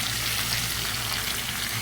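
Fish frying in hot oil in a pan, a steady soft sizzle and crackle that holds evenly from start to end with no talk over it.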